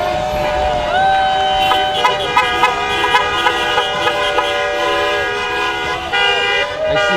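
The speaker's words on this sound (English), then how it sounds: "You hear all those beeping" Car horns honk over and over from passing traffic at a street protest against ICE in Waltham, Massachusetts: overlapping sustained beeps and short toots, loud and continuous for the whole stretch.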